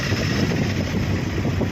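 Long queue of sugarcane tractors idling at a sugar factory in Partur taluka, Jalna district, a steady low engine drone with no break.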